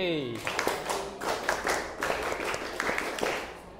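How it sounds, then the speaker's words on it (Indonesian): Classroom students clapping for class 9C, a moderate patter of hand claps with distinct individual slaps, mixed with voices talking. "Sekali lagi kita beri tepuk tangan untuk kelas 9C."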